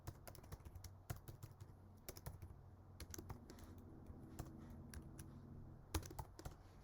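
Rapid, uneven keystrokes on a computer keyboard while an SQL query is written, steady clicking close by with a few louder key hits and no talking.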